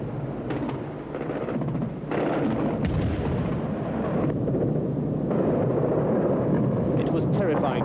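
Iraqi anti-aircraft gunfire with tracer bullets in 1991, a dense, continuous roar of rapid distant firing and rumbling bursts that swell and persist throughout, loud and unbroken.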